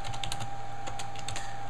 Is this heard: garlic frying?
no